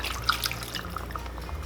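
Water is poured into a cooking pot of diced tomatoes, making a soft, quiet trickle with small drips and splashes. No one speaks.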